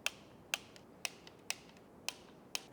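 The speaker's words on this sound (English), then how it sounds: "Now we can torque our servo motor to 10 Newton meters." A torque wrench tightens a servo motor on a BMW F10 engine, giving six sharp, evenly spaced ratchet clicks about half a second apart, close and fairly faint in a quiet setting.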